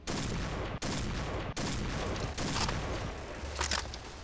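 Sustained automatic Ultimax machine gun fire in the shooter game Point Blank, a dense, loud, continuous rattle broken by two brief gaps, with extra sharp bursts near the end.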